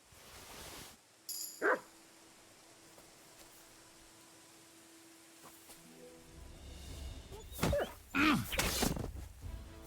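A dog in Kingdom Come: Deliverance II, a medieval video game, gives a short whimpering yelp early on, then a cluster of louder barks near the end over a steady background hiss.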